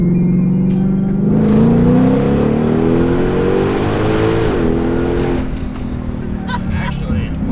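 A stock Shelby GT500 accelerates hard from a launch, its engine note rising steadily and loudly through a single gear before easing off, close by.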